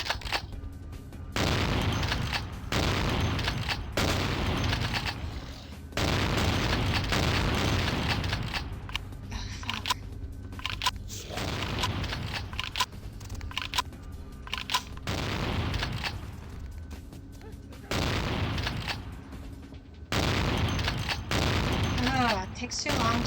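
Gunfire in the vampire video game Vampire the Masquerade: Bloodlines, with repeated loud booming shots in bursts spread across the stretch, separated by quieter gaps.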